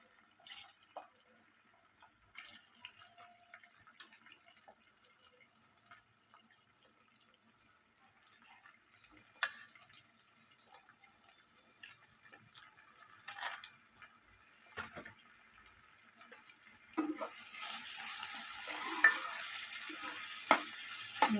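Ivy gourd pieces frying with turmeric in a pan, a faint sizzle with soft scraping stirs that grow busier and louder toward the end.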